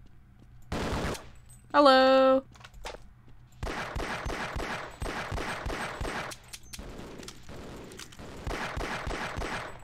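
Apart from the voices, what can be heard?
small gun firing in Half-Life video game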